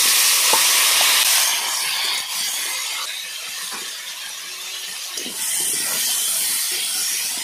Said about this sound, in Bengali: আবার করে তেল দিয়েছি, দিয়ে আর এই পেঁয়াজ কুচিগুলো আবার দিচ্ছি।